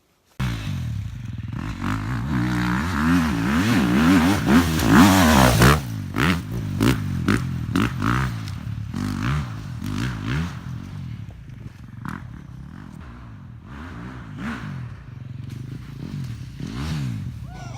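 A motocross motorcycle riding laps at a practice track before a race, the engine roaring and revving hard up and down through the gears, with clattering and wind noise, close and loud throughout.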